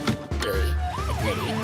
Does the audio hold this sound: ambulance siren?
yes